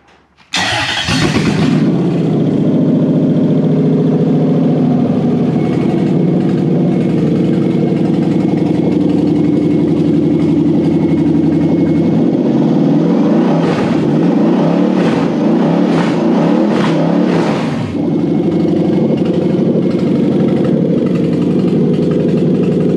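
A Toyota 1UZ-FE V8, rewired with a swapped relay and fuse box, cranks and fires almost at once, then settles into a loud, steady idle with a few quick revs partway through.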